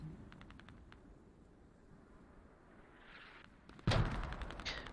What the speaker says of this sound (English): Zaza and Sick taking a bit of damage from the mortar explosions